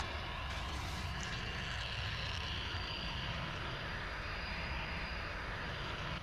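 A helicopter in the video game Modern Warfare gives off a steady, dense rotor-and-engine drone that holds evenly loud for the whole stretch, with no voices over it.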